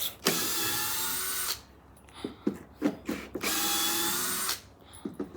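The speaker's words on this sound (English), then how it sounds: "So we whip them out with the drill." A power drill removing deck screws whirs in two sustained bursts separated by clattering knocks and thuds, close and fairly loud, with a short final burst at the end.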